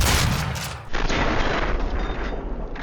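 Shotgun fire in a first-person shooter game: heavy booming blasts in quick succession, with a sharp break and a second blast that trails into rumbling echo and mechanical clatter, loud and close, no talking.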